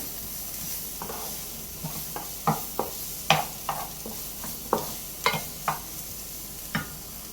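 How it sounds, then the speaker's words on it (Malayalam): Tomato is stirred into vegetables frying in a pan for egg fried rice: a low sizzle runs underneath as a spatula knocks and scrapes in an irregular rhythm of close, distinct taps. "ടൊമാറ്റോ കൂടി ഇട്ടിട്ട് ഒന്ന് ഇളക്കി കൊടുക്കാം."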